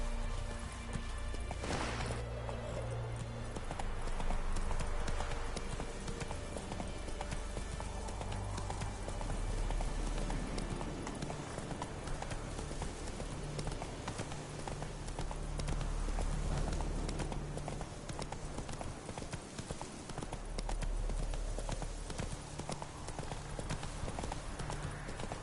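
Hooves of the horse Roach clip-clop in a steady galloping rhythm throughout, loud and continuous over low game music and ambience in The Witcher 3.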